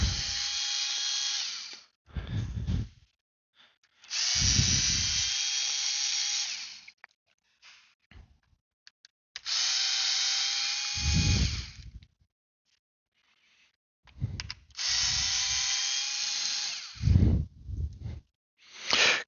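An electric screwdriver or drill runs in several short bursts as four screws come out of the PCB housing of an Ultra NOVA bidet, with quiet pauses and faint handling between the whirring runs.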